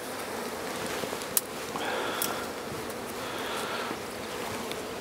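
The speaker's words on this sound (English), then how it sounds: "there will be quite a number of bees in the air" Honey bees fly around an opened hive during a shook swarm, with a dense, steady buzzing hum of many insects in the air close by, and a few brief higher whines as individual bees pass near.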